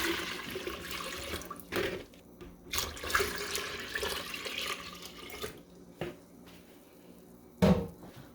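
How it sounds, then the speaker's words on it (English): Water poured into the tank of a 4000 mL BlueHills diffuser, a soft splashing trickle at close range and low level, broken by a few knocks and clunks of handling. "So I'm going to pour the water on this side."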